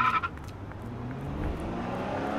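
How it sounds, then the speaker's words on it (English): A car in the video game Art of Murder rumbles past nearby, a low engine hum that swells and holds steady for a couple of seconds after a brief higher sound at the start. "that car scared the crap out of me"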